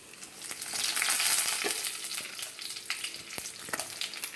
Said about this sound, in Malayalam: അതിലേക്ക് കടുകിട്ട് കടുക് പൊട്ടിയിട്ടുണ്ട് ഇനി നമുക്ക് വറ്റൽമുളക് ചേർത്ത് കൊടുക്കാം